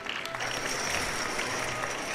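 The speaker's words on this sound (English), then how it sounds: "Let's support them with applause." Short burst of steady clapping for children's puppet theater performance at a family gathering, a continuous even patter of several hands at moderate volume with no talking over it.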